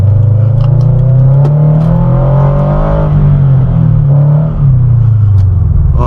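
Engine of a modified Subaru BRZ heard from inside while driving, a loud steady low drone with rising and falling revs and a slight dip near the end.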